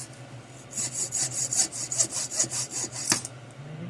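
A slack hand saw blade cuts through wood in a live steam model workshop, about a dozen steady, rhythmic rasping strokes close by, with no talking.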